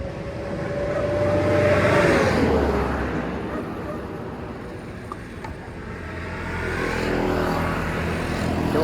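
Motorcycle engine running unevenly with an irregular, uneven beat, heard close and fairly loud as it swells, fades and swells again.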